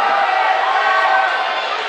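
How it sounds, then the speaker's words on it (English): Crowd noise swells steadily at a high school girls' basketball game after a missed free throw and lane violation, a continuous roar of voices and cheering that holds loud throughout. "You're getting the crowd into this a little bit now."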